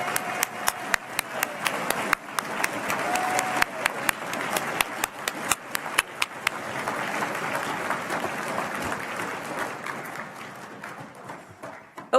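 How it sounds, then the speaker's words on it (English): A crowd at a national school math competition claps for the girls on stage, sharp individual claps over a steady wash of applause that slowly thins and fades. "let's get one more round of applause for all the girls this morning."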